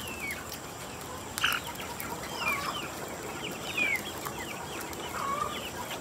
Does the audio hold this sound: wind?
no